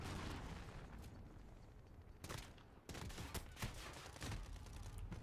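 Rapid Uzi gunfire in the Modern Warfare video game, dense bursts of fast shots and impacts crackling almost continuously, with a brief lull in the middle before the firing resumes.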